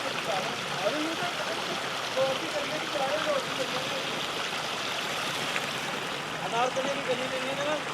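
Water flows steadily through a flood-cut stream channel in Kalam Valley, Swat, Pakistan, a continuous rushing wash with faint bird-like chirps on top.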